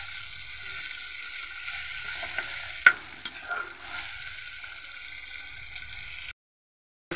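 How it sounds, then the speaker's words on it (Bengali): Ginger and garlic sizzle in hot oil in a pan for a dal, with a steady close crackle and stirring scrapes. One sharp clink sounds midway, and the frying cuts off just before the end. "এখন আমি আদা রসুনটা দিয়ে দিলাম। প্রথমে আদা রসুনটা একটু ভালো করে ভেজে"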